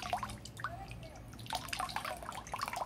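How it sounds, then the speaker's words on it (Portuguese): Water dripping and trickling out of the unscrewed filter housing of an inflatable Intex hot tub, in small irregular drips and splashes, fairly quiet and close, with no voices. "Deixar escorrer um pouquinho da água aqui"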